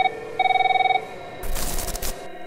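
A telephone ringing in a recording played within a Malaysian ghost story, two short electronic trill bursts, clear and close, followed by a brief noisy rustle.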